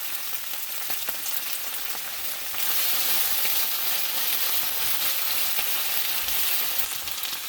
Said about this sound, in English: After adding onion masala, we can add some curry leaves.